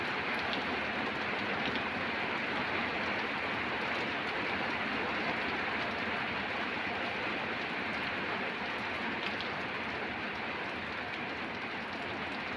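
Steady, dense rain falls throughout on a garden, a continuous broadband hiss of drops hitting surfaces, close and fairly loud with no pauses.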